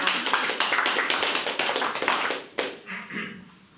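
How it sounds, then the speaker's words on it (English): Attendees at a park board meeting applaud their departing secretary with brisk, crackling clapping that runs for a few seconds, then drops away abruptly and leaves a few scattered trailing claps. "Well, I think you deserve a round of applause."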